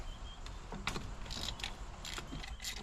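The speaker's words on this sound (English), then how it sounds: "Get this ratchet on it." Ratchet wrench turning a bolt on a 1979 car radiator: a series of faint, quick metallic clicks over steady background noise, with no talking.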